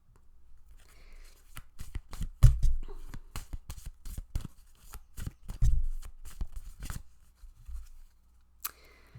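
Tarot cards are shuffled by hand in bursts of crisp, papery riffles and taps, with quiet gaps between and a couple of louder thumps as the deck is squared, close and fairly faint.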